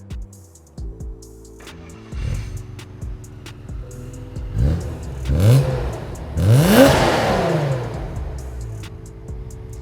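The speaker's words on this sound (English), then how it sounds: "Could you please start the car and give us a little bit of a rev?" A supercharged BMW M3 E36 engine revs up in several rising bursts, climbing in pitch and loudness toward a strong final rev, heard close with no talking.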